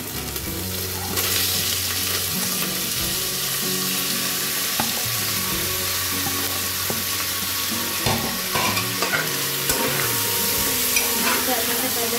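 Four large thinly sliced tomatoes fry in a pan for mutton curry, a steady close sizzle with occasional stirring clinks and scrapes, a voice faintly in the background.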